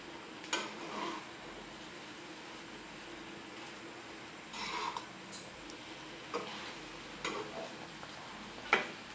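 Tomato rice being stirred in a pan, with quiet scraping and a soft sizzle broken by occasional spoon taps against the metal, heard faintly and with no talk.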